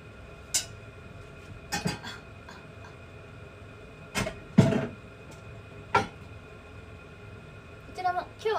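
Cooking pots being handled while preparing to cook, scattered metallic clinks and knocks heard close up at irregular intervals over a quiet room background.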